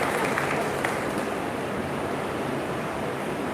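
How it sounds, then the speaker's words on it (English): A school audience applauds at an Independence Day celebration, a steady dense wash of clapping filling the whole stretch without pause. "Can we have a huge round of applause, audience?"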